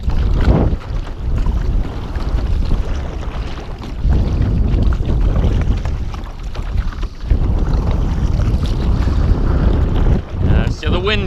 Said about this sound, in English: the wind's definitely not helping us today